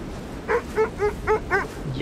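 A dog in the video game Kona II: Brume gives five evenly spaced, short barks or yips at close range, with a quiet background in between.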